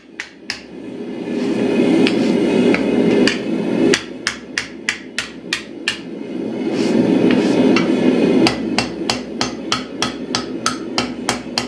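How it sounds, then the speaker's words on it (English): Metal hammer blows strike hot mild steel in quick repeated bursts while it is forged into a wrapped hatchet, sharp ringing clangs over a roaring forge, the strikes coming in fast rhythmic runs. "Bend it as far as you can and proceed to hammer it flat."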